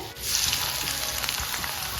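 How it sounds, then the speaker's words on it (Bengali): Oil heating and frying onions for beresta, fried onions for prawn biryani, crackles with a steady, close, dense sizzle throughout and no voices. "বেরেস্তার জন্য তেল গরম হচ্ছে"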